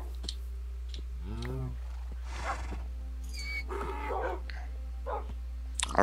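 Dogs in the Minecraft video game give several short yips and barks scattered over a few seconds, fairly quiet against a steady low hum.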